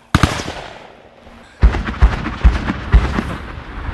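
Gunfire cracks out during a firefight at a factory near Sloviansk: a single sharp report, a brief pause, then a rapid string of loud, booming shots echoing through the site.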